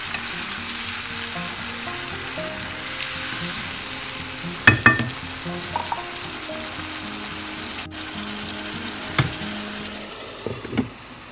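Mola fish curry masala sizzles steadily in a pan while being stirred, with a few sharp spatula clacks and scrapes rising above the continuous frying hiss; no one speaks.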